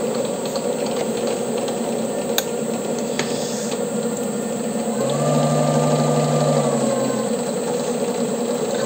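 A metal lathe cuts a thread with the half-nut engaged, a steady mechanical whir and gear rattle with a sharp click partway, then a lower motor hum rising in pitch near the middle and fading, no talking.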